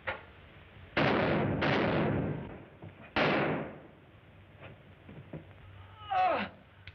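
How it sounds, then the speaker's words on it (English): Gunfire in a 1936 film serial: three loud, sharp shots, two close together and then one more, with a dull, narrow old-film recording quality and a faint thin noise near the end. "Craig, what were those shots?"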